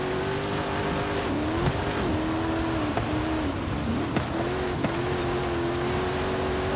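In Forza Horizon 5, a Ford F-150 truck drives hard with a continuous loud engine drone whose pitch rises and dips through gear changes and turns, with a few sharp bumps or tire scrapes along the way.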